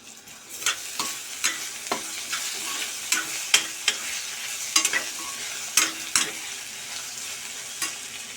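Potatoes are dropped into onions frying in a pan for a spicy Kolhapuri chana dal dish, with steady sizzling broken by frequent scraping stir strokes at close range.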